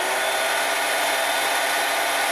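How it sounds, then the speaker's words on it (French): A handheld vacuum cleaner, plugged into the cigarette-lighter socket of a 12V-to-220V power inverter in a car, runs with a steady, loud, continuous whine and airy hiss. "sur la prise allume-cigare de l'ondulaire, j'ai branché un aspirateur à main"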